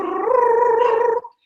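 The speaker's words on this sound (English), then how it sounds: "if you're someone that can do tongue trills" A single voice does a tongue trill vocal exercise, a buzzing rolled tone held steady and close for just over a second, rising slightly in pitch before stopping abruptly.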